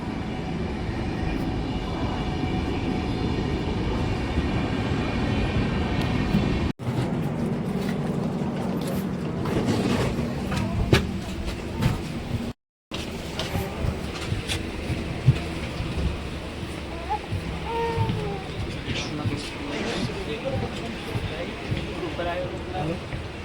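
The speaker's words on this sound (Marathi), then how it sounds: "हे कोणती ट्रेन आहे का पाहू शकता, कोणती तर ट्रेन, मदुराई बिकानेर" A Madurai–Bikaner train rumbles past with a steady heavy roar and clatter, as voices talk over the noise nearby.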